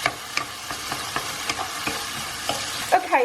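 Onion and garlic paste for a chickpea curry (channa masala) sizzles steadily in a pan while a utensil stirs it with repeated scraping taps, close and moderately loud, with no voices.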